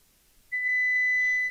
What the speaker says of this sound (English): Right, now it's beeping on everything.